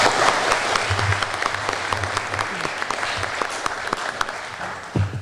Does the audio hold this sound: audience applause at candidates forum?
yes